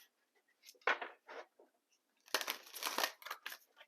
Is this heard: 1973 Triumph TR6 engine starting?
no